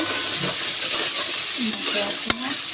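Onions frying in a pan for a meat dish, a loud dense sizzle with steady stirring and a couple of sharp utensil clicks near the end.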